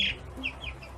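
Chickens in a small backyard coop give a few faint, brief clucks and chirps over a quiet background, with no voices.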